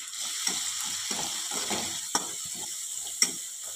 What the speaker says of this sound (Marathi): आपल्याला ही फोडणी 1 मिनिटभर अशी परतून घ्यायची आहे